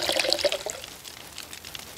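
Water splashes and pours into a container in the survival game CryoFall, strongest at first and tapering into a soft trickle over two seconds.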